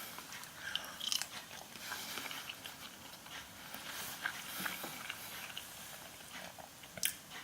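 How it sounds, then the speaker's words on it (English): Biting and chewing on a bland sausage from an Asda all-day breakfast ready meal, heard as soft close-up crunches and mouth sounds repeating quietly through the stretch, with a sharper bite near the end. "Let's try a bit of the sausage."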